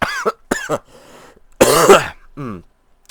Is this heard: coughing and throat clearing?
yes